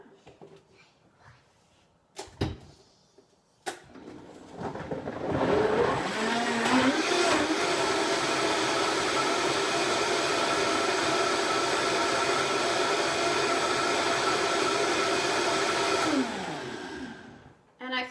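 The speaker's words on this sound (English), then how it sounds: "So I like to blend up all my greens first. So I'll just blend these up real quick." A blender blending greens whirs loudly and steadily for about ten seconds after a few clicks and knocks, then winds down and stops.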